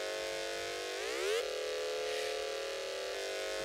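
A high-passed second bass layer from the GMS synth plugin bundled with FL Studio, a bright, buzzy sustained tone that sweeps upward in pitch, then holds steady, loud and alone with no talking.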